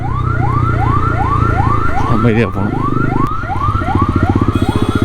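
A loud ambulance siren wails in rapid repeating rising sweeps, close by in Chennai traffic, while a voice speaks briefly over it amid traffic noise.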